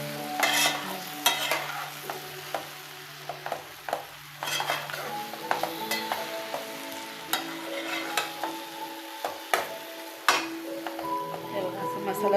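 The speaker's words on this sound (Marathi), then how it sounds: "तर असं त्यांना परतून घेऊया म्हणजे सगळीकडे मसाला वगैरे लागेल." Bread pieces are tossed with masala in a pan over low heat, the spatula scraping and knocking against the metal in an uneven rhythm over a soft sizzle, with a voice talking throughout.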